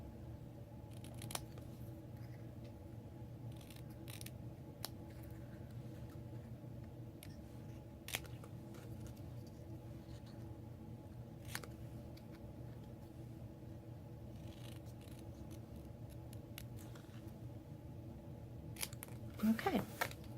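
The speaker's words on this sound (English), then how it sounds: "Just use my paper snips" Paper snips cutting paper in a quiet room, sparse crisp snips spaced several seconds apart over a low steady hum, with a small cluster of quicker cuts near the end.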